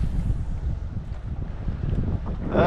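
Strong gusty wind over 20 mph buffets the microphone on a fishing boat with a steady low roar, swelling louder near the end over open water.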